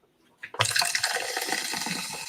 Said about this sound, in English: You still pouring? It's so effervescent.